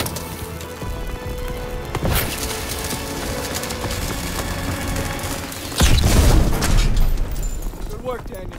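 Thermite charge detonating in the Call of Duty: WWII D-Day mission: a sudden heavy, deep blast erupts partway through over a constant backdrop of battle noise and rumble, then slowly fades.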